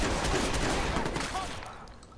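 A shotgun fires in the video game Watch_Dogs, a loud dense blast with a decaying tail that fills the short moment.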